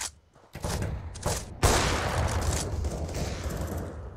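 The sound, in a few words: grenade explosion in the video game Counter-Strike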